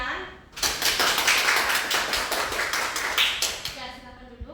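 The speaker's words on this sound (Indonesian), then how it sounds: "Beri tepuk tangan dulu untuk teman kalian." A classroom of students applauds their classmates after a group presentation, a dense burst of many hands clapping close by for about three seconds, with a teacher's voice speaking before and after.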